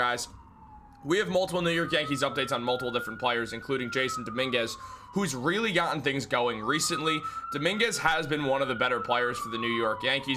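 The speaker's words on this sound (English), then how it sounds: "if you hear the siren outside" A siren wails outside, rising and falling in long sweeping cycles across the whole stretch, clearly audible beneath someone talking continuously in the foreground.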